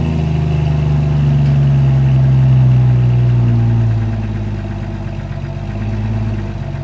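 A 1997 Jeep Cherokee engine idles close by with its exhaust after a catalytic converter install. The low drone is steady and fairly quiet, with a brief slight rise in revs partway through.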